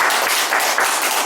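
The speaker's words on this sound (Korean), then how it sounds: "힘찬 박수로 시작하겠습니다" Hearty applause opens a political briefing session, a loud, dense, continuous clatter of many hands clapping together without any voices.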